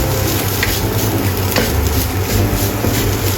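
Vegan fried rice stir-fried in a pan, a steady broadband sizzle and frying hiss with scraping stirring strokes, loud and close, continuing unbroken with no voices.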